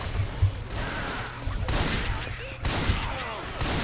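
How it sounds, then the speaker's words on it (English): Shotgun blasts fired at zombies in Left 4 Dead 2, a string of sharp booming shots with broadband bursts over continuous game noise, close and loud, with no talk. "how are they surviving shotgun shots?"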